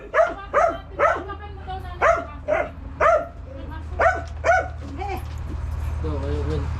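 A dog barks repeatedly in a quick series of close, loud barks that thin out and stop, after which a low outdoor background and faint voices carry on.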